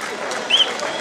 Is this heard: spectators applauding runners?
yes